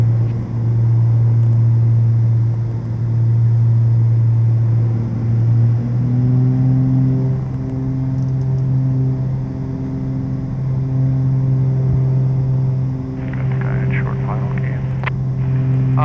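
Inside the cockpit of a Cessna light aircraft going around on a VFR flight near Auburn, the engine drones steadily with a low, even hum while a pilot talks on the radio over it.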